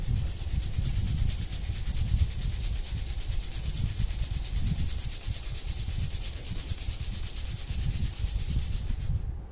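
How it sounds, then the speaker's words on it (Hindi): Two hands rubbed briskly together to warm them during a yoga routine, a steady close dry friction hiss lasting throughout with no talk. "तीन बार ओम चैंट करके हाथ को रब कर लीजिए"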